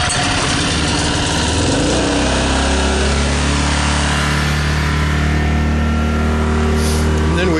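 A small gasoline engine on a miniature train locomotive is choked and pull-started, catching after about two seconds and then running at a loud, steady idle close by.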